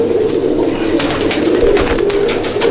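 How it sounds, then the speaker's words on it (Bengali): Pigeons coo steadily in a loft holding Andhra and Madrasi pigeon breeds, a dense chorus of overlapping low throaty calls with flutters and shuffling close by, continuous throughout. "দেখুন দাদা পায়রা স্ট্যান্ডিং"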